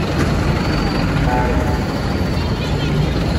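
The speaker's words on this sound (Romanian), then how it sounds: "Da, celebru tramvai" Historic tram passing through Taksim in Istanbul, a loud continuous rumble of wheels and car body with brief faint squeals, set against busy street ambience and nearby chatter.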